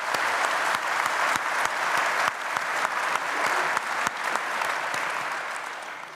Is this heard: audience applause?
yes